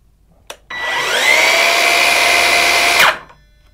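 An Evolution cordless power tool with soft start switches on after a click, its motor whining up gradually to a steady high pitch, then cutting off sharply under the electronic brake, loud and close.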